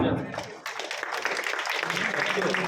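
A school audience claps for the PT teachers at a school event in Jagtial: after a brief opening the applause swells into a steady, noisy wash of hands, mixed with crowd voices.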